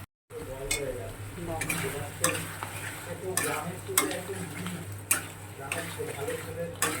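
A spice masala fries in a pan and is stirred, with a spoon scraping and clinking in rhythmic strokes over a steady sizzle and a low hum, close, while someone talks faintly underneath.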